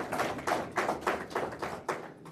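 Audience applause at a regional state-of-the-region address, heard as a short run of rhythmic claps in quick, evenly spaced bursts, moderately loud and fairly close, with no voices over it.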